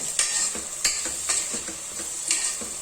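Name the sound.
onions added to sizzling tempering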